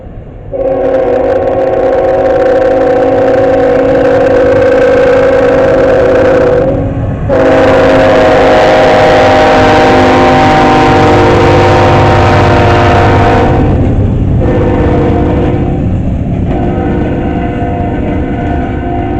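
A Norfolk Southern train rumbles past loud and close, its horn sounding in long sustained blasts that break off briefly and resume, over steady rail and wagon noise.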